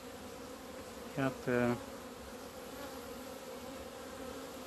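Honeybees at a hive in February droning in a steady, quiet background hum, with a couple of louder, close buzzes as bees fly past the microphone, and a single brief spoken word.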